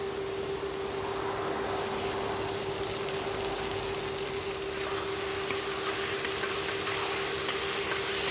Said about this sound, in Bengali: পেঁয়াজ মোটামুটি ভাজা ভাজা হয়ে গেছে। তো এর মধ্যে কুচনো টমেটো আর কাঁচা লঙ্কাটা দিয়ে নেব।